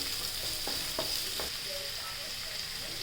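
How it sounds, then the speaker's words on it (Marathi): Onion sautéing in a pan for a dry potato and spinach dish, with a steady close sizzle and a few light stirring scrapes, no voices. "कांदा चांगला परतून घेणे."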